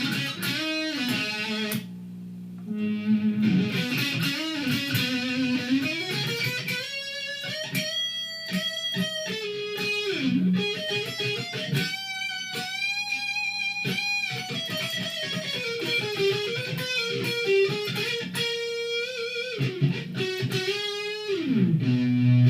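A heavily distorted electric guitar, a Chinese '59 VOS Gibson Les Paul copy with Dragonfire PHAT screamer pickups through a Marshall VS1 amplifier with mids turned all the way down, plays sustained chords and riffs, loud and saturated with a gritty, buzzing tone throughout.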